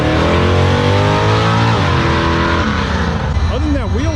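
A COPO Camaro drag racing engine roars at full throttle, its pitch climbing steadily, then wavering and sputtering in rising and falling whoops near the end as the wheels spin.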